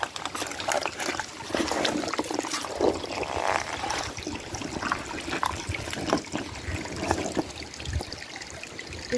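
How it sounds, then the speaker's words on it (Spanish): Water trickles out from a rock beside a path, a faint and continuous dribble with small splashes and no voices. "Y como el agua sale así"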